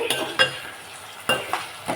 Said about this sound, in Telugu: నేనేంటంటే కొంచెం మంట ఎక్కువ పెట్టే వేపుతున్నాను